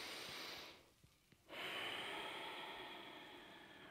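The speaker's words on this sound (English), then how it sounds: "always breathing through the nose, keeping the mouth closed." Steady nasal breathing during a seated chair yoga session: a long, close, airy inhale through the nose fills most of the stretch, broken by a short quiet pause before the breath resumes, with the mouth kept closed.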